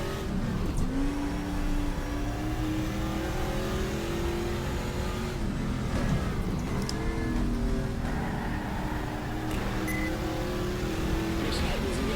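Race car engine in the GTR2 racing game during a 1000 km endurance race at the Österreichring, revving and shifting through gears with a steady drone, talk heard over the engine.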